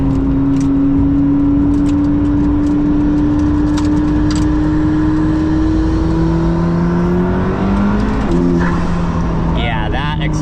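McLaren P1 heard from inside the cabin as it accelerates, a loud steady engine drone rising gradually in pitch before shifting near the end, with people talking over it.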